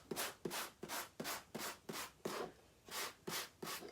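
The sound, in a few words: sandpaper rubbing over chalk-painted surface to distress it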